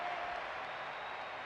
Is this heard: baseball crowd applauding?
yes